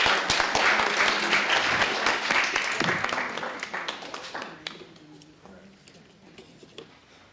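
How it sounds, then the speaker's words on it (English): Audience applause for a speaker invited to the podium at a county commissioners' special presentation, a lively round of clapping that gradually thins into a few scattered claps, with a voice briefly heard underneath. "Can we give him a round of applause?"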